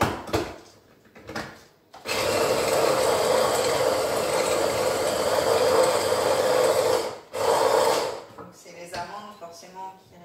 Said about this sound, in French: donc on va les mixer et on mettra l'huile un petit peu après